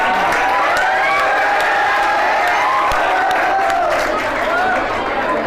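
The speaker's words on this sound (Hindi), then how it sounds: "एक बार जोरदार तालियों से स्वागत कीजिए आप लोग।" Loud, sustained crowd applause and cheering with whoops fills a ceremony hall as an audience welcomes a student topper of the 2023 UP board results, with voices mixed into the noise throughout.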